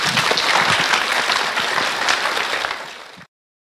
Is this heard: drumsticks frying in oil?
no